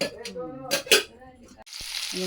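Garlic in hot oil in a kadhai, for a village-style gram greens bhaji, breaks into a sudden loud, hissing sizzle that follows a stretch of quieter kitchen sound and voice-like murmur.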